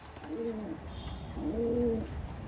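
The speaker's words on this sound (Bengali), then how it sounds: "আপনারা জাস্ট কবুতর পেয়ারটা দেখেন" Two cooing calls from a new adult pair of Pakistani Giribaz high-flying pigeons, clear and fairly close, with a short pause between them and no talk.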